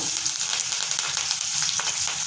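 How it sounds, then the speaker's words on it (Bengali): Chopped onion and curry leaves fry in hot oil with a steady, dense sizzle throughout, loud and close, with faint stirring clicks and no voices. "তেলের মধ্যে দিয়ে দিচ্ছি পেঁয়াজ কুচি, দিয়ে দিচ্ছি"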